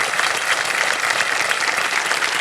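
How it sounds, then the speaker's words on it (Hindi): Studio audience applause on the KBC television quiz show, loud, dense clapping that stays even and unbroken throughout. "तालियां बजती रहे इनके लिए।"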